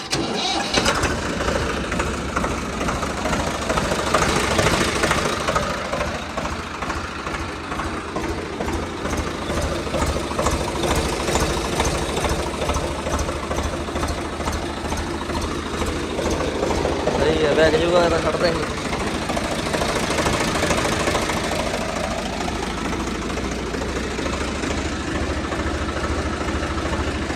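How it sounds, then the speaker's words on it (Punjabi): A tractor engine cranks and catches, then settles into a steady rough idle that runs throughout on a cold day, with someone talking over the running engine. "ਟਰੈਕਟਰ ਦੇਖ ਵੀ ਸਕਦੇ ਹੋ ਤੇ ਤੁਹਾਨੂੰ ਆਵਾਜ਼ ਵੀ ਸੁਣਾ ਦਿੰਨੇ"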